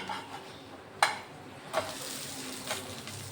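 A potato pudla pancake fries in a pan: a soft, steady sizzle with a couple of sharp metallic clicks from a spatula as it is flipped, fairly quiet and close.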